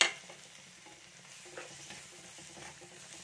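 Chopped tomato fries with chilli powder in a pan, a faint soft sizzle with a few quiet scrapes of stirring.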